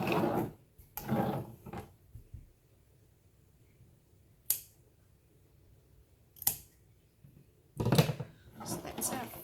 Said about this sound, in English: I'm going to grab some scissors and I'm just going to trim that off